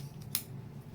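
Scissors snip once through skirt fabric, trimming a seam allowance while sewing a vintage-style pleated or gathered skirt: a single short, crisp cut over a quiet room with no talk.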